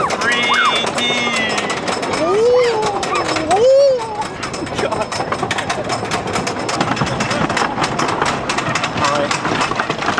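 Front-seat ride on the Avalanche wooden roller coaster at Timber Falls, Wisconsin, a loud steady rumble and clatter of the train on the track, with people shouting and screaming over it.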